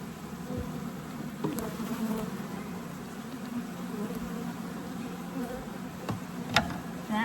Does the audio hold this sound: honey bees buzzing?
yes